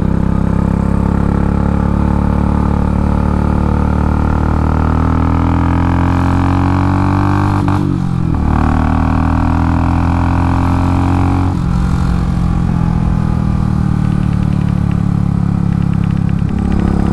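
Royal Enfield Classic 500 single-cylinder motorcycle engine, running smooth after a hard break-in, revving up and dropping back twice, loud and close with a steady thumping idle between the rises.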